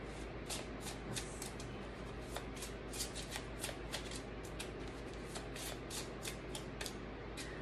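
Playing cards are riffled and shuffled repeatedly in quick, crisp bursts, close and fairly quiet against a low background hum.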